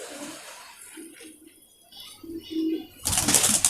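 A pet pigeon gives soft, low, throaty coos in a repeated rhythmic pattern, close and fairly quiet, ending in a sudden loud rustling burst that sounds like wings or handling.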